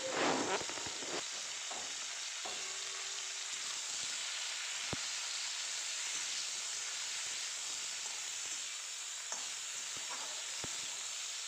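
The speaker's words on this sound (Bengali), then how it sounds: "এখন আমি ফুলকপিটা ভালো করে ভেজে নেব।" Cauliflower fries in hot oil with salt and turmeric, giving a steady, close sizzling hiss throughout, dotted with small pops and the odd clink of stirring.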